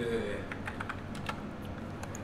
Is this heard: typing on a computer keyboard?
yes